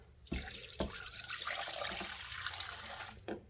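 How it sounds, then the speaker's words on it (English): Water is poured into a dye pot used to colour Sufix 832 braided fishing line, making a soft, continuous splashing trickle with a few sharp clicks and knocks of the pot around it. "Now, I may have to add some water."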